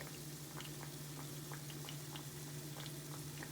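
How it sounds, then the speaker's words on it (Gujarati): Muthiya dumplings frying in hot oil, a steady, fairly faint bubbling sizzle with scattered soft pops and crackles and a constant low hum beneath. "એવી રીતે બધા મુઠિયા તળી લઈશું"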